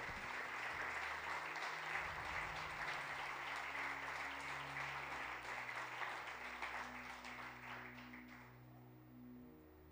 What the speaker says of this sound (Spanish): Dele las gracias al Señor con un aplauso.